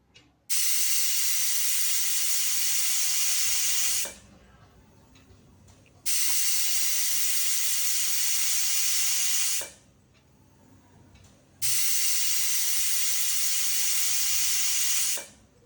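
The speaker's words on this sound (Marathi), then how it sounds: "4 शिट्ट्या त्याच्या होऊ द्यायच्या" A pressure cooker boiling pigeon pea pods vents steam in three long, loud, sustained hissing whistles, each lasting about three and a half seconds, separated by quieter low rumbling gaps.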